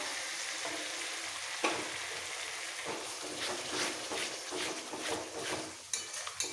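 Mutton frying with spices for kosha hisses steadily in a pan, and repeated scraping and clinking come from stirring over medium to high heat; the sound is fairly close and continuous and carries no speech.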